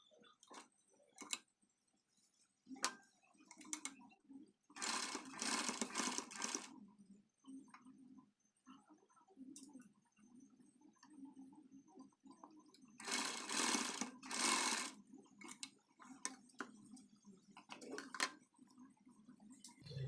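A sewing machine stitches the lining of a long blouse sleeve in two short, quick bursts. Faint handling clicks and fabric rustles fill the quiet stretches between them.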